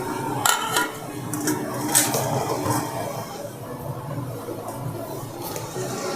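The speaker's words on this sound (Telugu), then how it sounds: "నూనె కొద్దిగా వేడయ్యాక ఇందులో కొద్దిగా ఆవాలు అండ్ కొద్దిగా జీలకర్ర అండ్ కొద్దిగా మెంతులు కూడా యాడ్ చేస్తున్నానండి" Mustard, cumin and fenugreek seeds go into hot oil in a pan for rasam, giving a steady crackling sizzle with scattered sharp pops and light metallic clinks of utensils close by.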